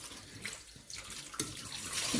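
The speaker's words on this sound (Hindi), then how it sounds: "थोड़ा सा मैं गर्म पानी ले लेती हूँ" Hot water runs from a tap for washing beef trotters in a home kitchen, a soft, steady splashing stream with a few brief spatters as the water hits the sink.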